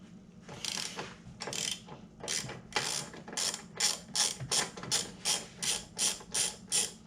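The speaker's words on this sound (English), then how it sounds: "we're gonna loosen this strut tower bolt here" Ratchet wrench loosening a 15 mm strut tower bolt on a 2020 Ford Explorer ST, a series of rapid clicking swings that grow more regular and evenly spaced, close and moderately loud.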